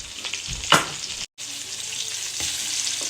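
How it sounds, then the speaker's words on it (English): Salmon fillets sear in a hot pan with a loud, continuous close sizzle, a sharp clatter as they are flipped, then the hiss resumes after a brief gap, with no speech. "Now I'm going to flip these over."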